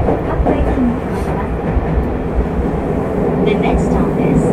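A Tokyo Metro Hanzomon Line train runs between Oshiage and Otemachi, with a steady, loud rumble and rattle from inside the car, wheels clicking under it. A station announcement plays faintly over the noise.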